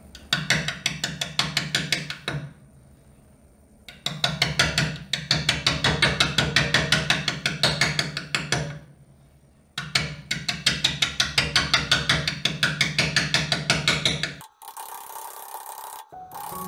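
Wood lathe spinning an out-of-balance pinyon bowl blank at about 330 RPM, giving a loud, rapid rhythmic thumping in long bursts separated by brief quiet pauses.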